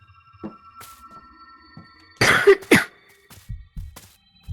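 A character in the horror game Fears to Fathom lets out two harsh, raspy coughs in quick succession midway, with faint thumps and a low hum around them and no talk.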